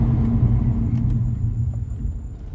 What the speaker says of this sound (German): Das war übrigens das UPS-Auto und nicht ich